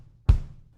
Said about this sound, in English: This is what a bass drum sounds like in real life.